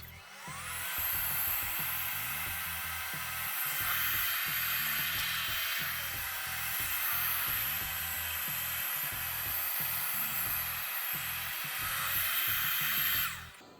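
An Ultenic T10 robot vacuum cleaner runs on thick, deep-pile carpet, giving a steady high-pitched motor whine with a constant suction hiss and faint bumping rumbles underneath.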